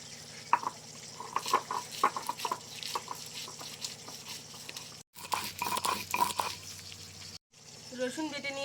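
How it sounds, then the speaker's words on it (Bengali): Garlic being ground into paste on a grinding stone, a steady rhythmic scraping and crushing pattern with short pauses, close and moderately loud. "এবার রসুনটা বেটে নেব।"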